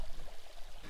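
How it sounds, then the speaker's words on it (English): Water pours and trickles as a small stream feeds into a brook where trout gather among rocks, a soft, close, uneven gurgle heard alone. "there's a stream that comes in right here"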